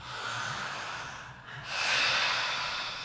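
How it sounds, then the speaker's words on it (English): A group of people draw breath in through wide-open mouths, giving soft, breathy airy rushes: a first inhale, a short lull, then a stronger, louder intake close by. "So mouths open wide, everyone. Okay, and then breathing in."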